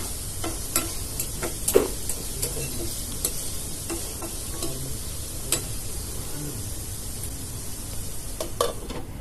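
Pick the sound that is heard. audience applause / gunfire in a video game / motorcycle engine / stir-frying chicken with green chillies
stir-frying chicken with green chillies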